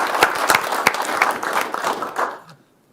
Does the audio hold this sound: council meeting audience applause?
yes